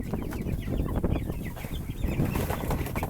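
Six-week-old and three-week-old chickens cluck and chirp together at close range, a busy, continuous flock chatter with occasional wing flutters and no talking.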